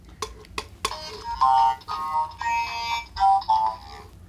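Kamen Rider Fourze S magnet switch toy going off nearby: a few sharp clicks, then bright electronic chiming tones in short repeated bursts, loud and alone.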